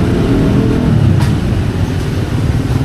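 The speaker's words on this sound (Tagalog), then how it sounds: "So makikiraan siya na idadaan dito yung kanyang sasakyan." A vehicle rolls past close by with a steady low rumble, the engine noise swelling slightly and then easing away over a few seconds.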